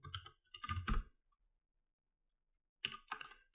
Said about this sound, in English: Typing in some fake information